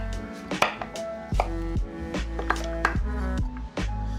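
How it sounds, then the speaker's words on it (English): A knife chops food on a cutting board for chicken en croute, a run of sharp, close wooden knocks at an uneven, unhurried pace. "And now we just take this and just chop it up."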